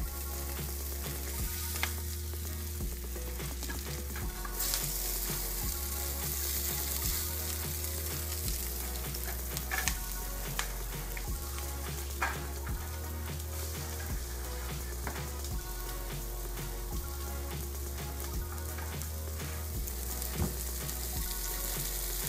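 Canned salmon patties frying in a pan, a steady close crackling sizzle with scattered pops running continuously, no talking.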